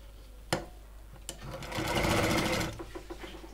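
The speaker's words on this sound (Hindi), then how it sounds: "तो यहाँ पर हम इसे सिलाई लगा देते हैं" Sewing machine stitching a blouse in a tailoring lesson, with a short burst of fast, even stitching at moderate loudness after a couple of sharp clicks, then a few separate ticks as it slows and stops.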